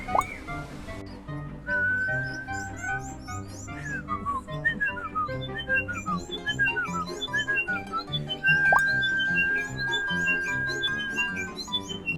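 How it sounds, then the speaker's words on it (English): A bird at a wildlife sanctuary whistles a repeated melodic tune of clear sliding notes, steady and fairly close, over a low musical background. "another bird to whistle this tune non-stop"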